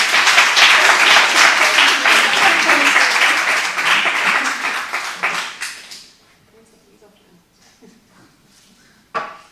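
A church audience applauds two volunteers during a sermon on Abram's covenant. Loud, steady clapping fills the room for about six seconds, then fades out, and a brief sharp knock or clatter follows near the end.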